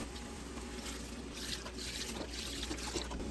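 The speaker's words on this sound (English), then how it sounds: "about 2 cups of beef broth. So let's get that in next" Beef broth being poured into a cooking pan for beef stroganoff, a continuous close liquid trickle and splash that swells and ebbs in soft surges.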